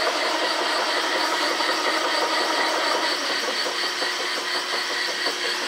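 A marine engine runs steadily during a bench test of a 72C Velvet Drive 1.1 transmission fitted with a brand new pump, a loud even mid-range drone with a light rattle and no talking.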